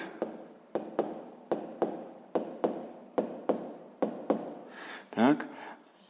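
Pen writing numbers by hand during a sixth-grade maths exercise: about a dozen quick, close scratchy strokes in a steady rhythm, ending in a longer scribble.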